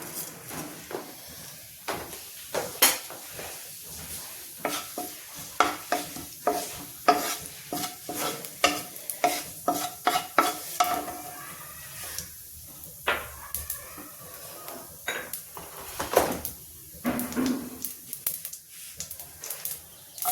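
Cumin seeds sizzling in hot oil in a pan for a spinach dish with gram flour, heard as a soft steady fry under repeated close clinks and scrapes of a stirring spoon against the pan, with no talking.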